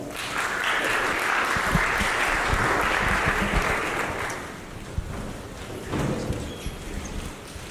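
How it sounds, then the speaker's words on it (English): A crowd applauds panel guests at a Web3 infrastructure discussion, loud sustained clapping that tapers off toward the end, with a short renewed swell near the finish. "Give these guys a round of applause."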